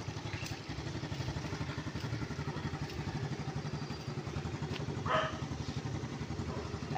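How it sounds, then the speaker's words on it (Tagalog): A motorcycle ridden by a learner runs steadily and close by, its engine a continuous low rumble with a brief higher rattle partway through. "Aral siya magmotor"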